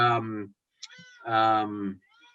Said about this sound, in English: She always starts meowing when I talk.